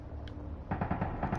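An unidentified thing fires a rapid, fluttering burst of shots partway through, following a brief quiet stretch; moderately loud and continuous to the end.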